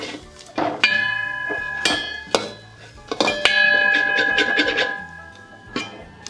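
Steel cooking pots and lids clanging and ringing in a home kitchen while cabbage fry is made. Several sharp metallic strikes with bright, lingering rings come in irregular bursts, loud and close.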